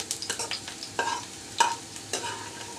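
Potatoes and onions frying in oil in a pan and being lifted out, giving a soft steady sizzle broken by a few sharp scraping and clinking strokes, close by with no talk.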